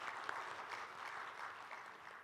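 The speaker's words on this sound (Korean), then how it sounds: "박수 한번 주시면 좋겠습니다." An audience at the opening ceremony of the 2022 Pyeongchang Peace Forum gives steady applause, a continuous soft patter of many hands, distant and fairly faint, fading slightly at the end.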